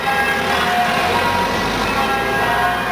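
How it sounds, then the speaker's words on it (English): Church bells peal in an English village, a dense continuous ringing of overlapping tones carrying loudly across the street with traffic rumble underneath. "Oh, just in time for the bells."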